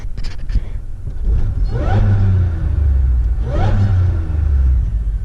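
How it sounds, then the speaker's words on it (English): A Pontiac Grand Prix GTP running outside in cold weather gives a steady, close, deep exhaust rumble, rising in two brief rev swells before settling back to a low burble. "And the exhaust sounds good."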